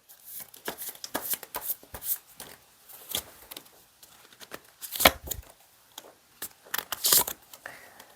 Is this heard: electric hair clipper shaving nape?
no